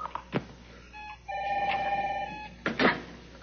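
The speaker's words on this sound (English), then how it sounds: "Your phone rang." A telephone rings once in a steady electronic trill lasting about a second, clear and close, framed by a few sharp knocks and handling bumps before and after.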